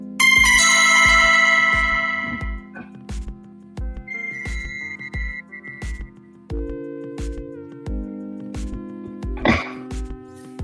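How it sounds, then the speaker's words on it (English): A trading platform's price alarm rings for a GBP USD trade, a steady series of short repeated electronic chimes pulsing throughout, fairly loud and close, with other tonal beeps layered in and a brief sharper burst near the end. "My alarms are already ringing straight away."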